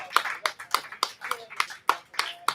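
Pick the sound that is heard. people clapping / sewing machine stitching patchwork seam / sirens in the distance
people clapping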